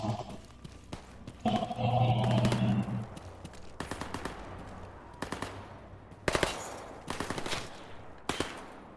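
Video game gunfire from a STALKER-style Zone setting: rapid automatic bursts and single sharp shots crack out in several separate volleys, loud and close, with a brief drawn-out animal-like cry early on.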